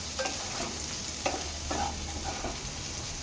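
Prawns get stirred in a hot frying pan, the spoon scraping in bursts over a constant close sizzle.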